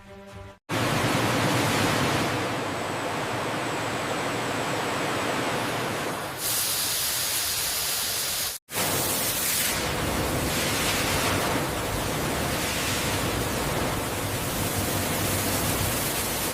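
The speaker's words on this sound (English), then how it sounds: "Pressurized rinsing showers moringa leaf thoroughly, guaranteeing pristine inputs for moringa leaf powder manufacturing." Pressurized water sprays rinsing moringa leaves in a powder factory: a loud, dense, continuous hiss of spraying water with two brief dropouts, roaring without pause throughout.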